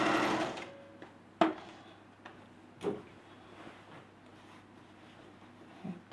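A domestic sewing machine stitches fabric for a dress sleeve: a short, loud mechanical whir at the start, then quiet isolated clicks and knocks spaced about a second apart, close by and with no talk.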